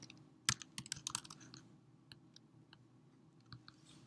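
Keys clatter on a computer keyboard as a database username is entered while configuring a Java application connection to Autonomous Transaction Processing: a quick close burst of keystrokes early on, then sparser isolated taps.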